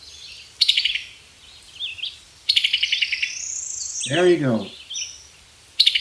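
A rosy red songbird, 7 3/4 inches long, gives bright repeated chirps and a descending, warbling call amid faint insect background, with a short spoken phrase in between.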